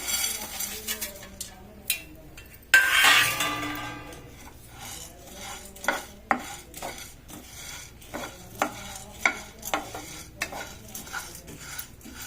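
Sunflower seeds being stirred and dry-roasted in a pan for dry fruit laddus, a steady scraping rattle with repeated sharp spoon-on-pan strikes, close and fairly loud, no talking.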